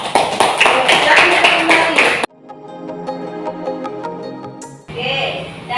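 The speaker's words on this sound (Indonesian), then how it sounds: "Kita kasih aplaus dulu untuk yang berani maju ke depan." Classroom applause for students who came up to the front, a burst of loud clapping for about two seconds, then a quieter stretch of ringing tones, and a short return of clapping at the end.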